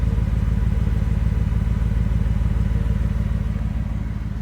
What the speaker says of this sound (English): Just sounds great even just sitting here idling.